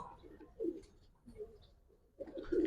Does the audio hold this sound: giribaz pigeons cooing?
yes